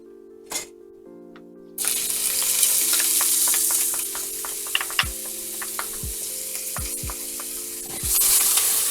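Shallots hit a little hot oil in a pan and start frying, a steady sizzle over a faint background hum, punctuated by several sharp knocks and clinks of a utensil against the pan.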